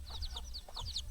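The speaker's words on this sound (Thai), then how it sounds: "ไก่เลี้ยงไก่คอกไก่" Domestic chickens near a coop in a Laotian village cluck in quick, close bursts, several short calls overlapping in just over a second with no talking.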